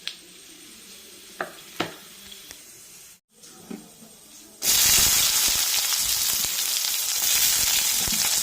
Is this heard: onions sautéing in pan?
yes